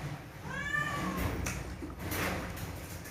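A house cat gives one short meow near the start, fairly faint, followed by soft scuffs and low background noise in a home where fish is being cut.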